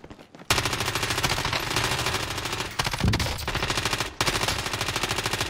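Rapid automatic gunfire rattles in long, loud bursts with a brief pause between them, dense and continuous, in a Call of Duty: Warzone firefight.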